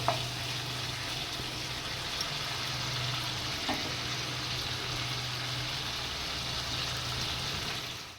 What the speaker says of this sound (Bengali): বেশ ভালো করে এটা লাল লাল করে ভাজা হয়ে যাচ্ছে।